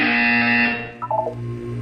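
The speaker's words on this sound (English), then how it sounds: "You will hear a buzzer. When you hear the buzzer, look up at the ceiling." A synthetic electronic buzzer tone in the video game Portal 2, with a harsh, distorted edge, followed by a short run of quick beeping blips; loud and up close, no voices.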